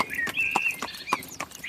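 Hooves of horses drawing an old cart clip-clop in a steady, close rhythm, a handful of sharp knocks with bright ringing overtones, alone without any talk.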